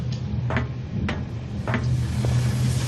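Knocking on a door in the horror video game Call of Cthulhu: several sharp, evenly spaced raps over a steady low in-game hum.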